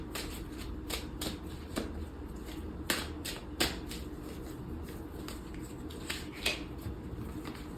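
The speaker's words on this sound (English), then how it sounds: "as I shuffle the cards" A deck of cards being shuffled, close and quiet: a steady series of crisp riffling snaps with short pauses between, alone with no talking.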